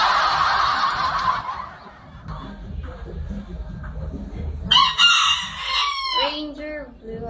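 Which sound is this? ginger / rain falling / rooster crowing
rooster crowing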